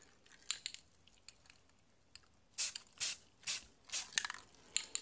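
Spray paint hisses in several short bursts onto Crye Precision Airframe helmet pieces from about a foot away, the bursts close and moderately loud, separated by brief pauses with faint handling noise between them.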